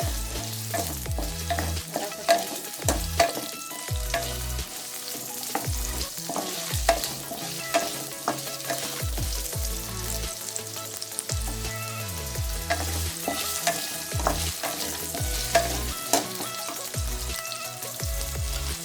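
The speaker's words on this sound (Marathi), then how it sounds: "सगळ्या भाज्या आपल्याला फ्राय करून घ्यायच्या ते थोडंसं गोल्डन होईपर्यंत। सुरुवातीला आपण बटाटे टाकून घेतलेले आहे।" Potatoes fry in a pan for mixed vegetable bhaji, giving a continuous sizzle. A spatula scrapes and stirs them in a steady, repeated rhythm, close and fairly loud, with no talking.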